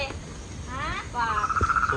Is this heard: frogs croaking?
yes